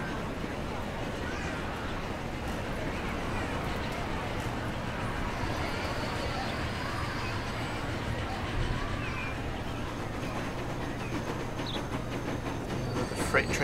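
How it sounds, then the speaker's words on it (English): A freight train manoeuvring in the video game Transport Fever gives a steady rolling rumble and rattle of wagons, with a low drone running through and faint squeals near the end, at constant loudness throughout. "Freight train manoeuvring."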